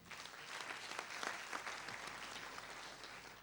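An audience applauds at the 2017 Faso Academy launch event in Burkina Faso. Dense, even clapping from a large crowd, fairly distant and soft, fills the whole stretch without fading.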